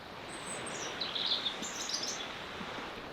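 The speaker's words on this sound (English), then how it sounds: "stop talking to the birds" Birds chirp and call outdoors on a Tuscan hillside, bright high tweets rising over a steady low background hiss, fairly close and moderately loud, with no talking.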